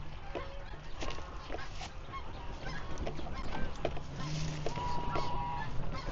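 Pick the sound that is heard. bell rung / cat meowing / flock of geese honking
flock of geese honking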